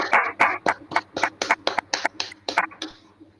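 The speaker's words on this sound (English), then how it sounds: "give a round of applause to this wonderful Sunday morning and to ourselves" Participants in an online Toastmasters club meeting clap over their microphones, a series of about a dozen sharp, distinct claps in an uneven rhythm, fairly close and alone, fading out near the end.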